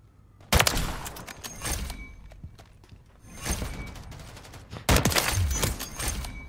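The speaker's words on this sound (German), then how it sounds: "Schön ins Genick geschossen." Gunfire in Call of Duty: Modern Warfare III comes in three loud, rapid bursts separated by quieter gaps, each a cluster of sharp cracks with thuds and debris.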